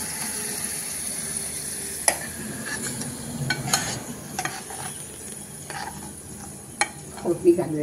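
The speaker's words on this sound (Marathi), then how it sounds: "थंड ढोकळ्यावर गरम फोडणी घालूयात आपण" Hot tempering (phodni) poured over cold, spongy besan khaman dhokla gives a steady close sizzle, with a few sharp clinks of a spoon or pan scattered through it.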